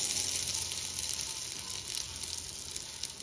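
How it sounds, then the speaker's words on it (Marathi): Mustard seeds and curry leaves sizzling in hot oil for a chivda, a continuous hissing fry with small crackles and pops, close and steady with no talking. "ह्याच्यामध्ये घालायचे आपल्याला मोहरी"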